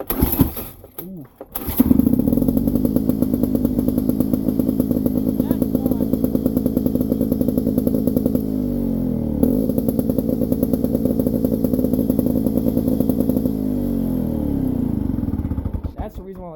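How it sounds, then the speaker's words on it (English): A Lawn Boy two-stroke push lawn mower starts after a brief sputter, then runs steadily and loudly close by, its buzzy engine note holding a constant idle with slight wavering for the rest of the clip. "I don't think no one hasn't heard a Lawn Boy run the first time."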